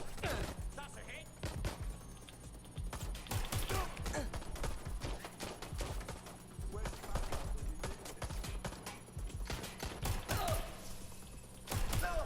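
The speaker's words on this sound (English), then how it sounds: "Shots fired! Shots fired!" Rapid bursts of gunfire in the video game Watch Dogs Legion crackle loudly and close, with sharp repeated shots and clattering impacts throughout, mixed with game voices and effects.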